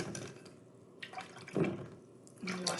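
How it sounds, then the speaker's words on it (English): Paintbrushes being rinsed in a water pot during a painting session, giving soft drips and small swishes of liquid that rise in a couple of brief bursts over a quiet room. "I'm going to wash both my brushes."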